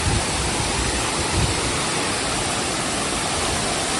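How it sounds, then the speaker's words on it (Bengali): A steady, dense rush of falling water roars without pause at Bonga Kocha Waterfall in Jharkhand, with no voices. "দেখো ঝর্ণাটা পড়ছে দারুণ লাগছে"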